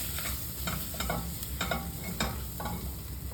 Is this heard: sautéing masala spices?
yes